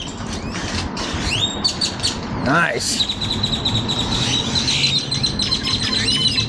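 Birds chirp and tweet among trees in a small downtown park with a gazebo, a mix of short calls and a thin repeated whistle over steady outdoor background noise, with a brief spoken remark.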